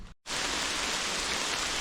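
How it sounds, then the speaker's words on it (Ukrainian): Heavy summer rain pours down through an oak forest, a dense, steady hiss of drops on leaves that starts abruptly after a brief gap and continues loud and unbroken. "Оце дощ пішов."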